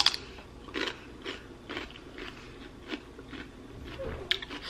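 Crisp bites into celery sticks stuffed with mustard and cottage cheese, a series of close crunches and chewing spread through the clip, with faint background sound.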